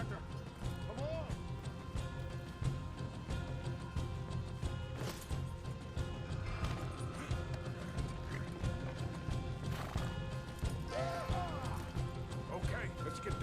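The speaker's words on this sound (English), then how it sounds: "You get them horses free, Arthur." Horses clip-clop and run in a video game during an escape, with hoofbeats steady under continuous game music and effects and occasional faint whinny-like calls.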